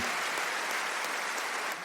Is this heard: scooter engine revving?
no